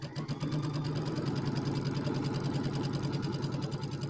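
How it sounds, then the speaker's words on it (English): A sewing machine runs steadily, stitching all the way around an envelope-back square bench pillow with a continuous, close, even mechanical whir and rapid needle rhythm throughout. "we're just going to sew all the way around"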